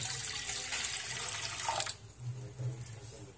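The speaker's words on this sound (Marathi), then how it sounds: "त्यात साधारण अर्धा तांब्या मी पाणी घालून घेते" Water splashes steadily into a hot kadhai on a gas stove, half a tumbler poured for cooking drumstick curry, a bright rushing pour that cuts off abruptly, leaving a quiet room.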